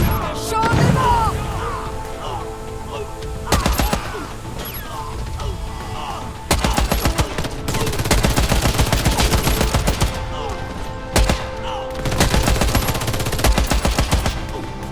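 Automated security turrets at a villa in the Warface shooter fire sustained bursts of gunfire, loud and close, with rapid repeated volleys broken by short pauses and mechanical clatter throughout.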